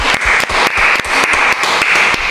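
An audience applauding a guest named Marina at a Marbella show, a short loud burst of hand clapping with sharp, rhythmic claps close by.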